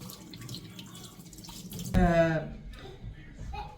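A dirty dish is rinsed under a running tap, with a brief splash of water in the middle of quiet kitchen background noise and a voice speaking nearby.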